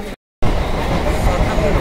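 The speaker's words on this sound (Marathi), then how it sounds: "पहिल्यांदा लोकल ट्रेनमध्ये" A Mumbai local train runs along the track with a loud, steady rumbling roar from onboard, briefly cut to silence near the start before the continuous rolling noise resumes.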